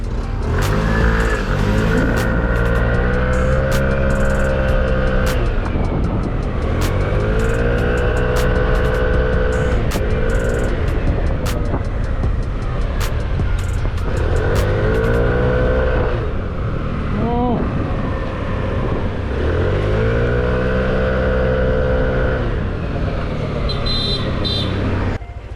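A Yamaha NMAX V2 scooter with an upgraded MTRT CVT revs hard under throttle, rising and falling in several long, loud sweeps while someone talks.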